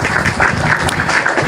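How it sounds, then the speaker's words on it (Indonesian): Audience applause at a live talk-show style event, a dense, loud wash of clapping that holds steady and close throughout the short moment with no speech over it. "Kita sambut dengan tepuk."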